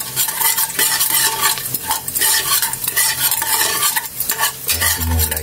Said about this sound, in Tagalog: Haluin lang natin yung mga kaili.